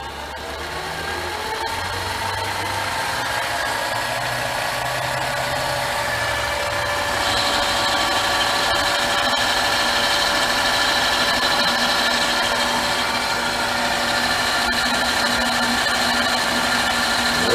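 A machine turns a copper workpiece at about 700 RPM, giving a steady mechanical hum and whine that builds slightly and then holds at an even level, with no talk.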